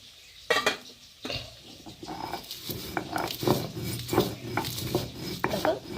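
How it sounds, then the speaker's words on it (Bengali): Fried spices being ground by hand on a grinding stone (shil), with close, rhythmic scraping and knocking strokes of the stone that repeat steadily after a couple of louder opening clacks. "এখন আমি ভাজা মশলাগুলোকে ভালো করে বেটে নেব"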